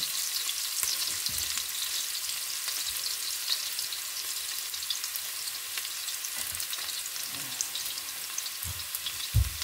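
Garlic and onions fry in a pan for squid adobo, giving a loud, continuous close sizzle with occasional soft stirring knocks.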